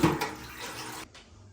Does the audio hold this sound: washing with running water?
yes